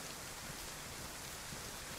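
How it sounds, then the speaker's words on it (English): Rain falls steadily in a video game roleplay scene, a faint, even hiss with no breaks. "stay here until the rain goes away"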